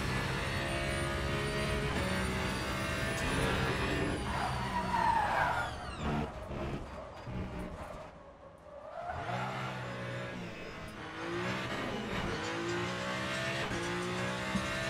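A race car in Le Mans Ultimate skids and spins out, with loud engine roar and tire squeal sweeping through a 360 spin, dipping briefly before the engine revs back up.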